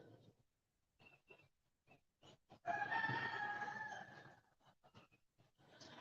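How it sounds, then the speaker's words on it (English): Chickens are out in the morning around a farm with honeybees, and a rooster crows loudly once against soft scattered clucks and pecking sounds nearby. "The chickens are already out and about."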